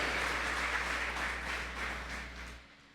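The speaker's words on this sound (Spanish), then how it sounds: "Dale fuertes aplausos al Rey de Reyes y Señor de Señores" A church congregation applauds in praise, a soft, continuous patter of many hands over a steady low hum, fading slightly toward the end.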